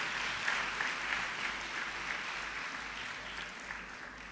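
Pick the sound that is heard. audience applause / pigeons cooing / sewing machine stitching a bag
audience applause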